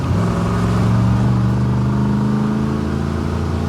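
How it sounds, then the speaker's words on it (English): A carbureted 350 small-block Chevy V8 in a shop van revs steadily and loudly up close, its deep engine drone holding at a constant pitch for several seconds, with no talking. "its carbureted 350 small block Chevy does very little."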